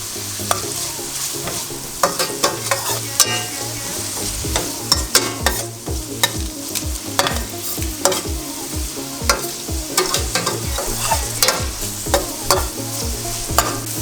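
Curry leaves sizzling in hot oil in a pan while cooking fish molee, a steady crackling fry punctuated by repeated stirring clacks of a utensil against the pan.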